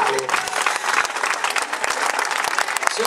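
An audience applauds after a comic sketch about a divorce and a lawyer, with dense, continuous clapping throughout and faint crowd voices mixed in.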